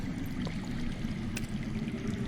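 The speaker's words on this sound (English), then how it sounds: "I hear water. From underground." Steady low rushing of water flowing underground in the Telltale Game of Thrones game, a continuous gurgling stream murmur heard alone at moderate level with no talk.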